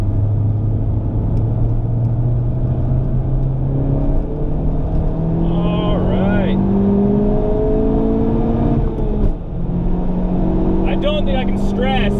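A Honda Civic Type R engine accelerates hard, its pitch climbing steadily through the gears with brief drops at each shift, heard from inside the car while someone talks over the drone.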